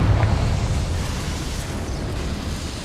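A rumbling, crackling blast from the Confringo fire spell in the Hogwarts Legacy video game. It swells loudly at the start, then trails off into a sustained roar.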